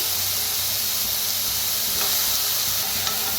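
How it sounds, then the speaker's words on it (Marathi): Brinjals roasting in a hot pan give off a loud, continuous broadband sizzle with a steady hiss and no talking. "आता ह्याच्यातच वांगी भाजून घ्यायची"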